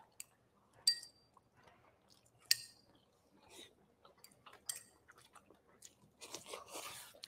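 Quiet close-up chewing of crunchy fried prawns, with scattered crisp crunches and bites, a couple of sharper clinks, and soft mouth sounds building toward the end.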